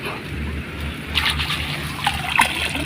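Water trickling and flowing outdoors in the rain beside an eel trap set in a rice field. The sound is a soft, continuous dribbling over a low rumble, with a few brighter splashes near the end.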